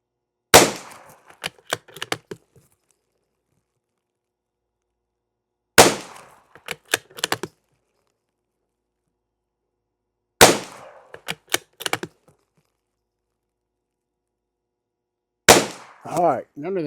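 Four sharp .22 rifle shots firing CCI SV ammunition lubed with lip balm, spaced several seconds apart outdoors, each a loud crack followed by quick echoes and clicks of the action, with a voice briefly heard near the end.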